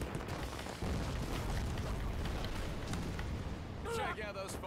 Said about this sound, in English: Check out those fireworks.